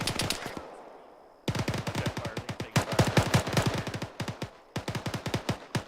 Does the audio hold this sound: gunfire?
yes